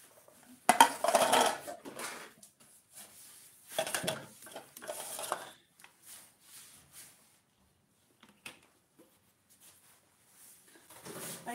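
Metal baking pans for a fruit cake clatter and clank as they are picked up and set down, a few loud bursts of handling followed by sparser, quieter knocks with near-silence between.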